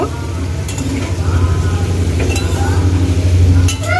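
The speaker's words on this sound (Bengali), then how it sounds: "এইগুলো মশলাগুলো দিয়ে ওই একটু লবণ একটু হলুদ আর একটু লঙ্কা গুঁড়ো দিয়ে আমি এটাকে ভালো করে একটু ভেজে নেব" Spiced meat for khichuri frying with salt, turmeric and chili powder in a pan, a steady sizzle broken by clinks of a spoon stirring against the pot, close up, with someone talking over it.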